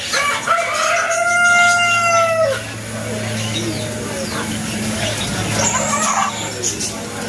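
Chickens, including Brahma and White Silkie breeds, in the bird zone of an eco resort: a loud nearby rooster crow rises and falls over about two seconds, followed by scattered clucks and background birdsong while a person talks.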